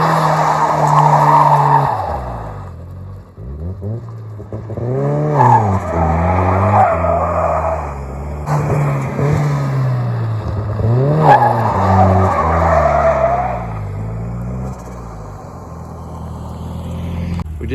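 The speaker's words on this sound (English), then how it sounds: "I'll throw a little video of me playing around with the parking brake" A truck's tires skid and squeal loudly as the driver plays with the parking brake, the engine revving and falling in repeated surges over a steady drone, with no talking.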